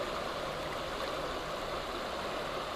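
Steady, even rush of river water flowing around someone standing in the current, a continuous broadband wash with no breaks or voices.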